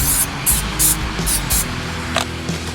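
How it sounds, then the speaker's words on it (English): A can of Bike Spirit spray cleaner and polish hisses out several short, sharp spray bursts in quick succession, close and loud, with a faint final puff at the end. "This original Bike Spirit spray polish."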